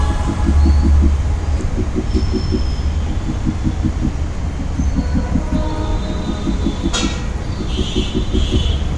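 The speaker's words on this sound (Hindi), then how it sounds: "और अब आ गई है ट्रेन झांसी।" A passenger train arrives at Jhansi railway station, its wheels clacking in steady rhythmic groups over the rails beneath a loud, continuous rumble.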